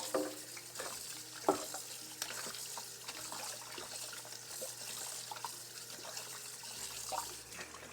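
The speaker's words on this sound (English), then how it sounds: "The next step will be to wash our beef." Raw beef being washed by hand in water for a Cameroonian-style stew, with close splashing, sloshing and sharp knocks against the bowl over a low steady hum.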